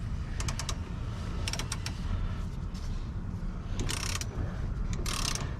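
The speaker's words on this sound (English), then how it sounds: "So I'm gonna try with the ratchet first." Ratchet working on the bolts of a rear lower control arm on a 1998 Honda Civic EK. Quick clusters of clicking sound over a low background rumble, with a couple of sharper metallic rattles later.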